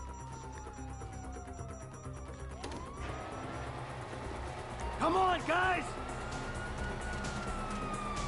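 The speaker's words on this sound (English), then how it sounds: "you hear that? Sirens." A police siren in a PS4 video game wails in the background beneath music and game sounds, with a brief louder warbling burst midway and a voice speaking over it.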